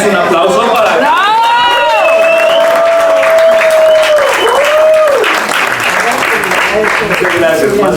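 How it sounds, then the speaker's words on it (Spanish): An audience applauds and cheers at a storytelling talk, a loud steady wash of clapping with a sustained voice calling out over it. "más que merecido ese aplauso"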